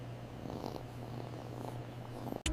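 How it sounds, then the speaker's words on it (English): A rescued cat purrs close to the ear, a steady low rumble like a tiny motor running evenly for a couple of seconds, ending in a brief rustle. "Ben could finally hear her purr like a tiny little motor"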